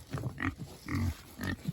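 Charlie the pig, one of a group of farm pigs, gives a few short close grunts in quick bursts, loud and near, with no talking.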